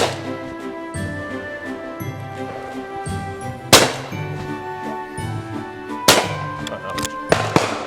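Shotgun firing at clay targets, three sharp reports spread across several seconds, each with a ringing tail, over a steady low background hum.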